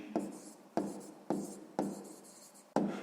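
A pen writes out a math solution on paper in five distinct quick strokes, each a sharp scratch fading out, close and quiet with no voice.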